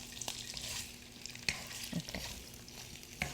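Shrimp sizzle and crackle steadily in a hot pan, with a few scrapes of stirring and a brief spoken word.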